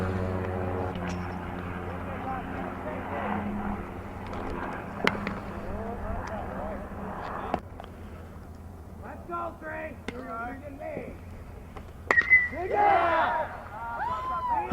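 An airplane passes above a college baseball game, its propeller drone strongest early and fading as a commentator keeps talking over it, with a sharp bat crack partway through.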